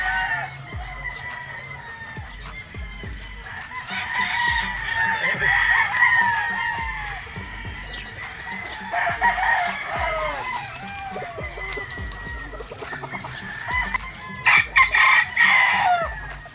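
Gamefowl broodcocks on a game farm crow repeatedly, several roosters calling in overlapping bursts, some near and loud, others farther off, with clucking in between.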